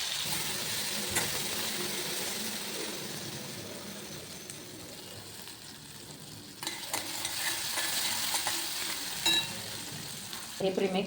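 Ground masala paste sizzles and fries in hot oil for a kadai paneer, with a steady loud crackle and occasional stirring scrapes, no voices.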